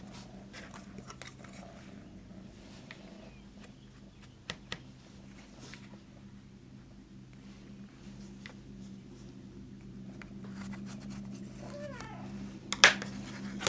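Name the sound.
pet cat meowing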